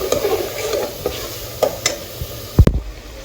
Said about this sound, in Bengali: বন্ধুরা মশলা কষানো হয়ে গেছে, এখন হচ্ছে আমি মাংসটা কষিয়ে নেবো সুন্দর করে।